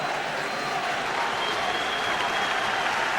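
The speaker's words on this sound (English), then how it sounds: "Listen to the crowd here." Roaring stadium crowd at a 2004 Warrington versus Wigan rugby league match, a dense, sustained wash of cheering and applause that stays loud and steady throughout.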